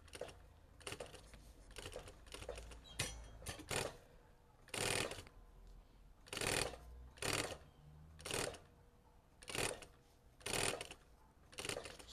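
A sewing machine stitches a seam all the way around a small pocket on a girl's fabric backpack, running in about a dozen short, close bursts of mechanical whirring separated by brief pauses, with no talking.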